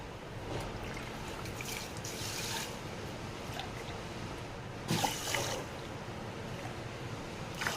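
Soaked horse gram being washed by hand in a bowl of water: a steady close swishing and rubbing with light trickles and a few louder sloshes, no talking.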